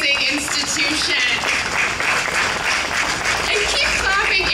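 An audience claps steadily at a glass center's expansion groundbreaking event, a dense, continuous patter of applause with cheering voices mixed in, heard fairly close throughout.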